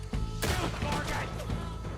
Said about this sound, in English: Shoot, Morgan!